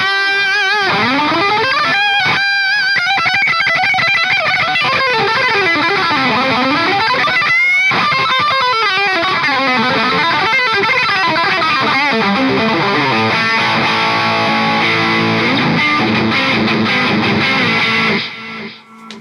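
Electric guitar played through a Mooer GE100 Pro Li multi-effects modelling pedal, loud, distorted riffs and sustained bends with effects, continuous for almost the whole stretch before cutting off at the end.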